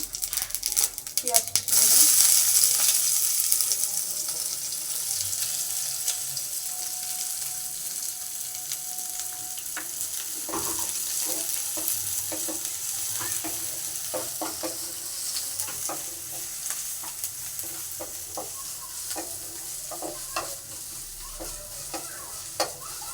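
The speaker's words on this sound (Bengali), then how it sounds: "তেল গরম হয়ে গেছে গোটা জিরে ফোড়ন দেবো" Whole cumin seeds hitting hot oil in a home kitchen pan as the tempering for a potato filling, a close, steady frying sizzle with scattered crackles, loudest at the start and then settling to a continuous hiss.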